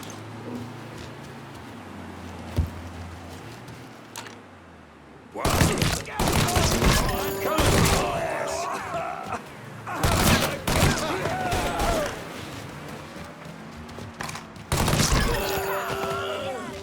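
Bursts of gunfire in Mafia 3, several loud volleys and rapid shots spaced across the scene after a quiet stretch, mixed with game effects and some voices.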